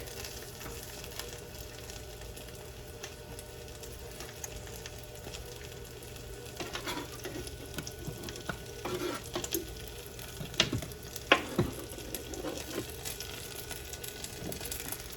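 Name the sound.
mushrooms, oregano and garlic sizzling in olive oil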